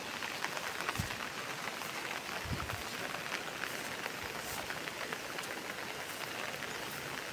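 Heavy torrential pre-monsoon rain falls on a village in a steady, dense hiss of drops, continuous and even throughout, with a couple of faint low thumps early on.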